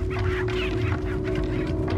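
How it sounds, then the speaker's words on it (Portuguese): A chicken in Resident Evil 4 clucks in a steady, fairly close stream of short squawks over low background ambience. "Oi, galinha."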